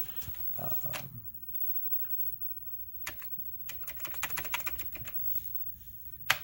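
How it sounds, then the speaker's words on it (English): Keys clack on a Commodore 64 keyboard during a repair test, a quiet, uneven run of close clicks and taps with short pauses between bursts and no talking. "now we'll just type in some random stuff that shows up"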